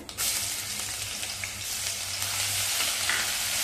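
Ginger-garlic paste sizzling and frying in hot oil with bloomed cumin seeds, a steady, loud, close crackle that holds throughout with no talking, made for an aloo methi dish.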